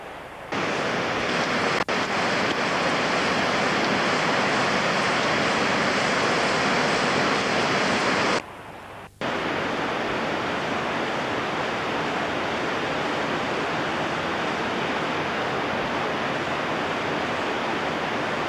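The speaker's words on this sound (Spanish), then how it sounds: "al fondo de los cuales oímos siempre la música del río" A loud, steady roar of a river rushing through the gorge below the Desfiladero les Xanes trail fills the whole stretch, broken only by a short dip before resuming unchanged.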